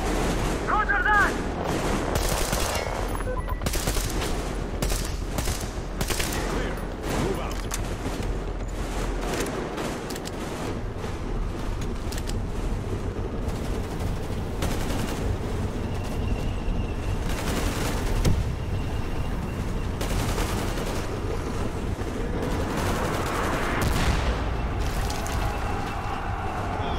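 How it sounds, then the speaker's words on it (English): Sustained covering fire rattles on for the whole stretch, with dense overlapping gunshots, automatic bursts and heavy booms in a close battle, and voices occasionally break through the shooting. "Covering fire for the Colonel. No saving ammo."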